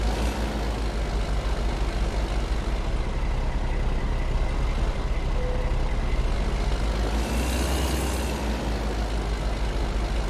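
A heavy logging truck in a Colorado logging game grinds along under a huge 120,000 lb load, its low, loud engine drone steady and continuous throughout, with a brief hiss near the end.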